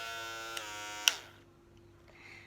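A Powertec 3200 electric shaver hums steadily at close range, with two sharp clicks, then cuts off and leaves a faint, quiet tail.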